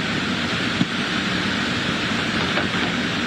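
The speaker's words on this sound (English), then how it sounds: "When you have one of these gusts that comes through," A strong, steady gust of wind roars continuously during Hurricane Idalia, a dense unbroken rush of air with no voices.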